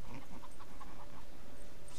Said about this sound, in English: Feral dog.